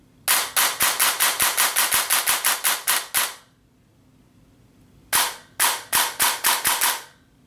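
Rifle fitted with a Retro Arms straight trigger firing in semi-auto, a rapid even series of sharp, loud close shots, then a pause and a second shorter burst of evenly spaced shots.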